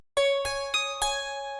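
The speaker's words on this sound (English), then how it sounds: "let's hear what the Ukrainian bandura is" Ukrainian bandura from the UVI World Suite virtual instrument: four bright plucked notes in a slow sequence, each ringing with rich overtones and overlapping sustain, close and unaccompanied.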